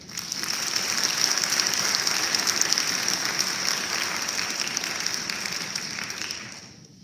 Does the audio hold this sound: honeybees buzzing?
no